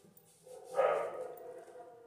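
Dogs bark somewhere in a home: a single short, muffled bark in the middle of an otherwise quiet moment, slightly distant.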